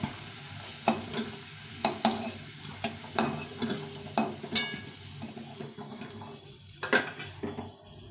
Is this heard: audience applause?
no